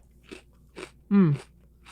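Wheat Thins crackers crunched close up in a few separate bites, with a short voiced sound in between.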